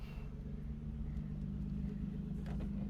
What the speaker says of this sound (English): Mufflers do a big difference. Just listen to this.